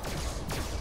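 Two quick laser gun shots fired at robots in the video game FNAF Security Breach, sharp sweeping zaps in rapid succession over a dense game background, with no talking.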